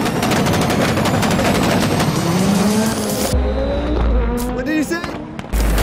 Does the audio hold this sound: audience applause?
no